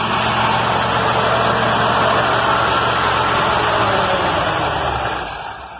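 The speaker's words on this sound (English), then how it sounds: "Oh my gosh, she's running great. Idling really high." A 1956 Chevy engine with a rebuilt Holley carburetor idles fast and steady with a rough, busy rumble, close by and loud, then begins to fade near the end.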